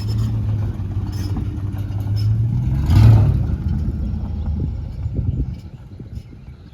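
A truck idles with a low rumble, then revs and pulls away, the engine swelling briefly and fading as it leaves. Nobody speaks.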